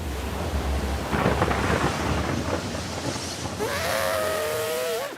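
Steady heavy rain pours down with a deep rumble of thunder underneath, joined near the end by a wavering tonal sound over the downpour.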